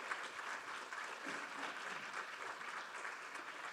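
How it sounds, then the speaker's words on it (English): Audience applause for a panel at a conference session on blue careers, a steady, dense patter of many hands clapping at moderate distance, sustained evenly throughout without voices. "A big round of applause for our panel."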